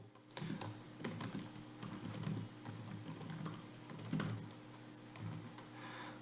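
Quiet, steady typing on a computer keyboard, a rapid patter of soft close key clicks for several seconds with no voice.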